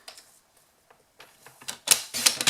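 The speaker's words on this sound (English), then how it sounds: "I'm actually going to use my trimmer, not my scissors this time." A paper trimmer slices through card in a series of sharp, crisp cuts that start faint and sparse, then grow louder and closer together toward the end, with no talking.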